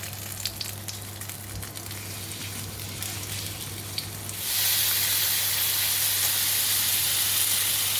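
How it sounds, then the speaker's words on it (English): Salmon frying in a pan alongside thick peas: a low hum gives way to a sudden loud, steady sizzle and hiss that holds close and constant to the end. "I just turned the salmon and the thick peas. I'm also going to fry on the edges after the one side is fried."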